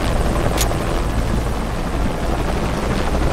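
An enemy helicopter in the video game Shadow of the Tomb Raider roars loudly and steadily, its dense rotor and engine noise filling the whole moment with no letup.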